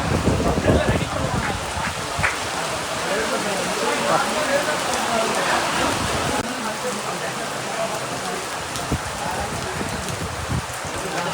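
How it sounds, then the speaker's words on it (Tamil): Steady drizzle falls at an outdoor cricket stadium in Salem, a continuous hiss of rain with faint voices and crowd murmur underneath. "சாரல் பயங்கரமாக அடிக்கணும் பாருங்க"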